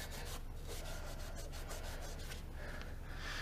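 Welder parts on a Miller CP-300 welder are scrubbed clean with a steady, close-up rubbing and brushing sound. The scrubbing runs on without a break and no one speaks.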